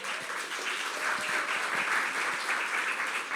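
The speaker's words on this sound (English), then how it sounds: "Another round of applause for Erica Roberts," Steady audience applause, fairly distant and even, with continuous clapping throughout and no voices over it.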